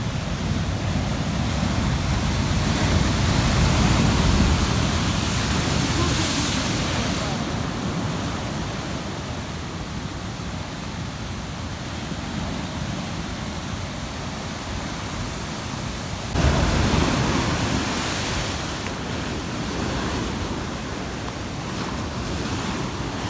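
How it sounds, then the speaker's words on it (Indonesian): Big ocean waves pound a rocky shore at Lhok Ketapang in a continuous loud roar with wind buffeting the microphone and a fresh surge of surf partway through, while people talk faintly beneath. "Ombaknya besar guys."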